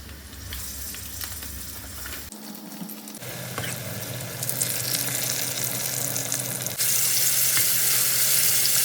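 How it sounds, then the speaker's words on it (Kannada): Brinjal and tomato pieces frying in oil with a continuous dense sizzle that grows louder and brighter partway through, with a brief stir or clatter between. "ಬದನೆಕಾಯಿ ಮತ್ತು ಟೊಮೊಟೊ ಎಲ್ಲ ನೀಟಾಗಿ ಆಯಿಲ್ನಲ್ಲೇ ಫ್ರೈ ಆಗಬೇಕು"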